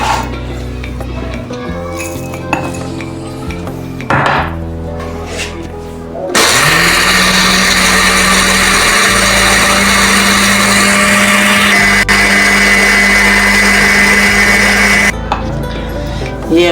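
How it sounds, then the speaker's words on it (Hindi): An electric mixer grinder coarsely grinds cinnamon and cumin seeds for homemade garam masala, a loud continuous whirring drone running steadily for several seconds after some handling clatter, then cutting off. "ये हम जीरे को भी पीस रहे हैं इसके साथ ही।"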